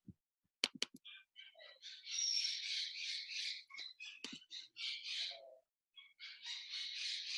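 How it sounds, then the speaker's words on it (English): A small green parrot squawking and chattering indoors, bursts of harsh, buzzy calls in quick succession with a few sharp clicks between them, close and fairly loud with short pauses. "my little green parrot is so noisy, isn't he?"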